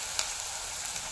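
Chopped onion frying over high flame in a pan, a soft continuous hiss of sizzling with a few faint crackles and one small pop, fairly quiet and with no talking.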